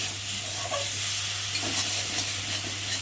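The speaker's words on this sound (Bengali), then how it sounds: "আর এখন আমি নেড়ে দেবো তো দেখো টমেটোটা গলে যাচ্ছে" Tomato and spice masala stirred in a pan for a small-fish curry, a soft continuous sizzle with scraping strokes of a spoon over a steady low hum, no talk.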